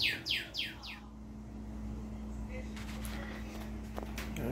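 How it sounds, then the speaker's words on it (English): A bird chirps outdoors near a cargo trailer, a quick run of three or four bright descending calls at the start, then steady background hum and faint rustling, with a person talking nearby. "got a bird chirping like crazy out here"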